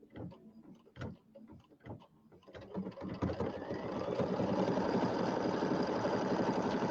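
An embroidery machine stitches a tack-down line on fabric for a Kimberbell table topper. A few faint clicks come first, then the motor settles into a steady, fast, continuous whirring chatter close by.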